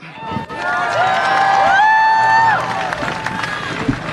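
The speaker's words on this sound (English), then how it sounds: "Please greet them with a hand clap." A crowd at a ceasefire rally at the US Capitol applauds and cheers, a rising tonal whoop riding over the mid-level clapping before it thins out.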